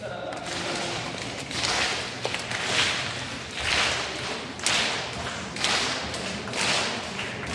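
A group at a Catholic Legion of Mary training session in Cheonan claps a rehearsed pattern, sharp broadband bursts repeating in a regular beat roughly once a second, with a voice speaking between them.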